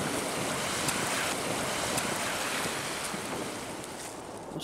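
Strong wind from Storm Ciara on the Thames foreshore at a very low tide, a loud, constant rushing roar that buffets the microphone and eases slightly near the end.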